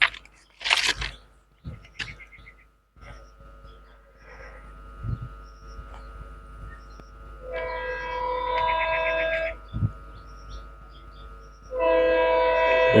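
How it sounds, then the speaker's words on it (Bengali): A train approaching along a railway line, first faint then rising, with a sustained horn-like tonal blast building near the end and scattered crunching footsteps or handling noises early on. "দেখুন গাইস, একটা ট্রেন চলে এসছে, বেশি দূরে নেই।"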